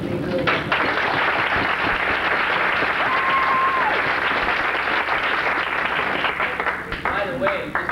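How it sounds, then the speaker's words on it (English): At a 1984 Dearborn Fordson High School Marching Band gathering, an audience gives the band parents a loud, sustained round of applause with crowd noise, continuing for several seconds. "I think we should give a big round of applause to the parents"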